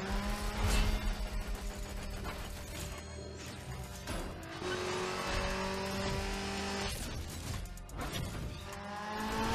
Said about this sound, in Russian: Какая у меня тачка крутая. У меня ж Митсубиши Эклипс.